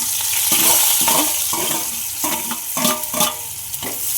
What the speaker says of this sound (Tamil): இப்போ ஒரு வெங்காயம் போட்டிருக்காங்க. இது நல்லா கொஞ்சம் வதங்கணும்.